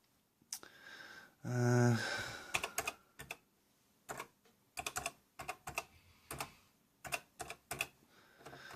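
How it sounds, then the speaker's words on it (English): One-handed typing on a computer keyboard, sparse irregular clusters of close key clicks with pauses between, after a brief breathy noise near the start; no speech. "Excuse my one-handed typing."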